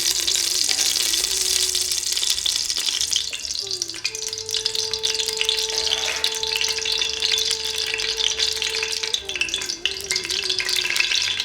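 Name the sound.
oil sizzling in a pan for mutton korma gravy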